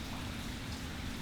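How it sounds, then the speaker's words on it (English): Steady rain falls in Mexico, a dense, even hiss of drops with no break or change in strength throughout. "It is raining."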